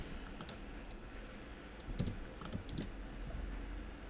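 Quiet keyboard typing while coding a web menu, short soft clusters of key clicks with a few pauses between them against a faint room hum.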